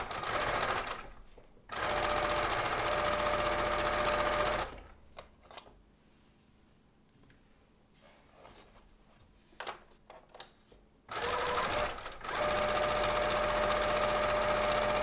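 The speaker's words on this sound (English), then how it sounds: "I'm sewing just on the outside of the line of that batting" A sewing machine stitches just outside the batting line on a toddler's costume, its quick chatter running in loud stretches with a long quiet gap in the middle where faint handling noises come and go.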